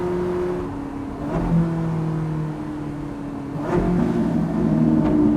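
A Ferrari 458 Challenge Evo race car engine drones and revs with a throaty, gurgling exhaust, rising and falling as the throttle shifts, loud and close.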